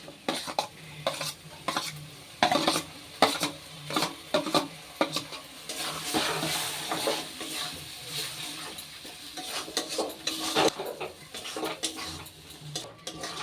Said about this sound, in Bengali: এবার এর মধ্যে দিয়ে দেবো আগে থেকে ভেজে নেওয়া চিংড়ি মাছ।